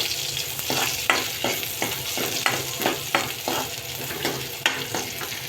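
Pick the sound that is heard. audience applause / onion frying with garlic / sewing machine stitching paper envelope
onion frying with garlic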